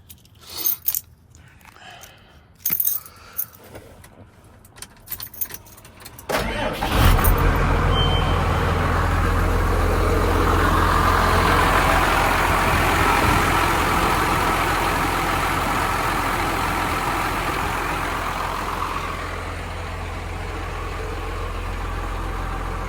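The 5.9 Cummins diesel in a 1996 Ford F800 truck cranks with a few sharp clatters, then catches and settles into a loud, steady idle that holds on without a break.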